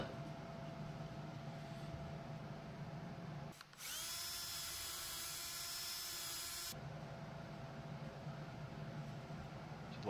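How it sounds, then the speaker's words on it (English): A power drill whines steadily for about three seconds, drilling holes in wood, loud and close, with a quieter mechanical hum running before and after. "drill a couple holes and glue them in"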